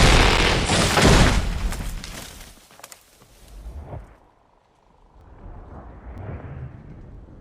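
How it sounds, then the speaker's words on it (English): Gunfire in an animated fantasy series: a loud, rumbling burst of booming shots at the start fades away, then weaker rumbles return later. "Did you hear that? Gunfire."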